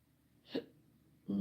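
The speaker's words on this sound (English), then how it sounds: "Excuse me, getting hiccups." A single soft hiccup from a woman sitting crocheting, quiet and close, followed by the start of her voice.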